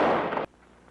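A single loud gunshot from a 1950 western TV episode bursts out at full volume and is cut off abruptly, leaving a faint room tone.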